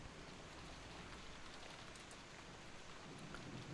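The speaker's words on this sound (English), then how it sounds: "All she could hear was the unsettling sounds of the winds and rain." Rain and wind fill the ambience of the Umineko visual novel game, a faint, steady hiss of falling rain with a low, continuous rush and no voices.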